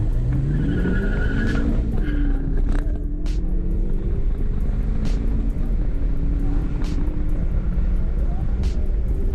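A Ford Focus ST fitted with a large Depo Racing intercooler and Cobb Stage 2 tune revs hard, its engine rising in pitch and then tapering off, loud and close, with someone talking over it.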